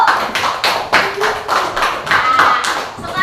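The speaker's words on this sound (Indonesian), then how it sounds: "Kasih tepuk tangan untuk kelompok 1." A classroom of pupils applauds a presenting group, a burst of quick, uneven hand clapping lasting a few seconds, close and fairly loud.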